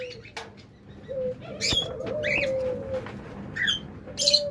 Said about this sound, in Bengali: চমৎকার এক জোড়া লাভবার্ড, ইনশাল্লাহ খুব তাড়াতাড়ি ডিম দিয়ে দিবে।